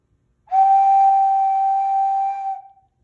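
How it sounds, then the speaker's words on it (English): A clay whistle with a reed and a rear hole, blown once into a steady, clear sustained note lasting about two seconds, close and loud, with no talk. "That sound came from this whistle."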